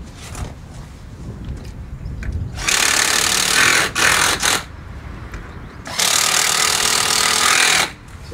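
Impact driver sinking brass screws into a Nautilus flood barrier, two long loud rattling bursts of about a second and two seconds, close by, with quieter room noise between them.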